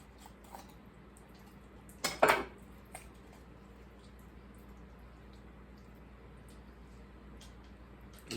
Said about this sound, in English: you broke the wishbone again